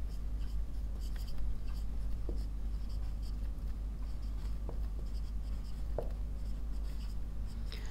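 A pen scratches across paper while a math solution for finding an LCM is written out, soft intermittent strokes and taps over a steady low hum, with no talking.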